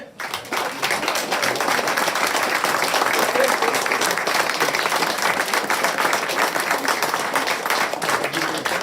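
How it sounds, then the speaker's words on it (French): Steady, dense applause fills the room as an audience at a certificate ceremony claps for the elders, holding an even level throughout. "c'est maintenant le moment de la main d'applaudissement pour tous nos doyens"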